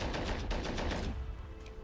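Rapid burst of automatic cannon or machine-gun fire from a Greyhound armoured car in the war game Men of War, loud and close, a dense rattling volley that cuts off after about a second into quieter battlefield ambience.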